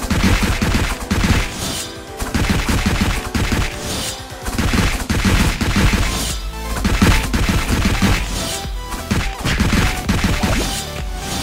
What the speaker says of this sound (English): Hitting small size dummy